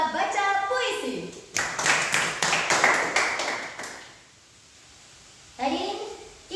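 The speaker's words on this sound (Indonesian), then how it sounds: "Beri tepuk tangan yang meriah untuk penampilan juara 1 lomba baca puisi." A burst of audience clapping fills a school hall after the first-place winner of a poetry-reading contest performs at a language-month event; the applause runs a few seconds between stretches of talking.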